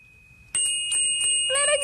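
A voice imitates a Salvation Army handbell outside a store, ringing out several bright, repeated dings up close with a sustained tinkling tone, over a quiet radio-studio background.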